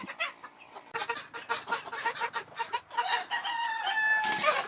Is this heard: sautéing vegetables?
no